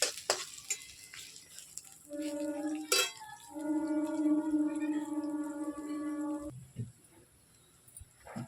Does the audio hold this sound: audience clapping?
no